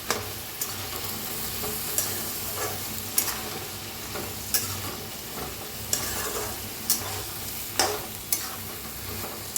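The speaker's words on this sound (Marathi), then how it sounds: "मिक्स करून घेऊया." A spoon stirs eggplant curry topped with roasted peanut powder and coriander in a pan, making regular scraping strokes over a steady sizzle, close and alone without any voices.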